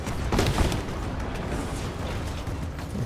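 A ballista fires in Rise of the Tomb Raider, a heavy booming release with a rumbling low-end tail that lingers and fades across the moment.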